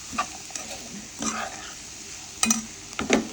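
Chopped elephant yam stems sauté quietly in oil in a pan for thoran. A few soft scraping and stirring strokes come at uneven intervals over a low background hiss.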